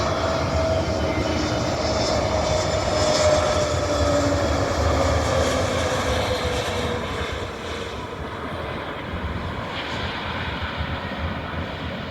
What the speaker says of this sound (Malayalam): ഇൻഡിഗോൻ്റെ ഫ്ലൈറ്റാണ് ഇറങ്ങുന്നത്.